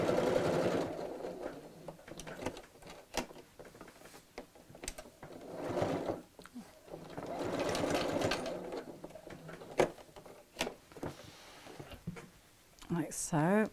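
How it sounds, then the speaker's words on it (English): A sewing machine stitches across the top of a fabric double zip pocket bag in bursts of steady mechanical whirring, close and fairly loud, with short pauses between runs and a brief clatter near the end. "then we'll sew those just across the top so I can take the pins out"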